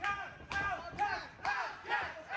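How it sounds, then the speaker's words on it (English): Spectators at a live tag-team wrestling match yell and cheer in repeated swelling bursts, each wave of shouting rising and falling about every half second. "Crowd rallying behind Jalen."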